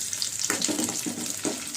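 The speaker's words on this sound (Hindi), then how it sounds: "ये ड्राई फ्रूट को भून लीजिए अच्छी तरह से" Dry fruits roasting in ghee in a pan for sheer khurma: a steady, close sizzle broken by a few soft stirring scrapes, with no one talking.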